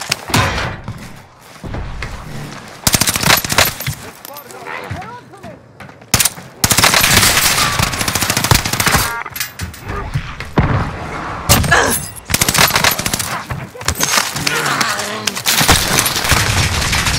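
Loud bursts of automatic gunfire and single shots in Call of Duty: Warzone on Rebirth Island, coming in rapid volleys separated by short quieter gaps, with thuds and a voice heard briefly at times.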